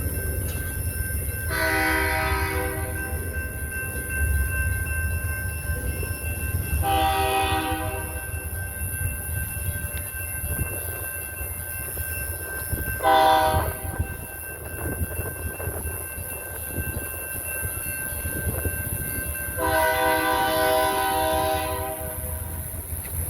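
A BNSF train rumbles past close by while its horn sounds four separate long blasts, the third one shorter, over continuous rail noise.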